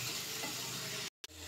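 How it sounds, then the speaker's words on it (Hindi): Turmeric, coriander and chili powder fry in a pan with tomato gravy, a steady close sizzle and hiss that cuts out briefly near the end. "ग्रेवी के साथ मसाले को भी हम 2 मिनट और भून लेते हैं।"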